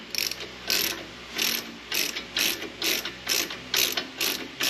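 A ratchet loosens a brake bolt on a 2019 Ford Explorer during a brake change, sounding as a run of about ten crisp, evenly spaced clicking bursts close up, with no voices.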